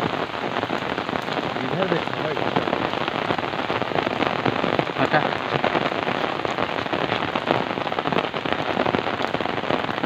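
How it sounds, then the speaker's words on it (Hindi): Steady, dense rain pattering on a hard surface in Gaddopur, Prayagraj, India, amid flooding, loud and close throughout, with brief voices speaking underneath. "गद्दोपुर में बारिश होते हुए"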